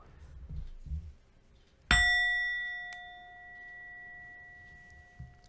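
A single bright metallic strike on a singing bowl resting on a pillow rings out, leaving a clear sustained tone that slowly fades, with faint rustling before it.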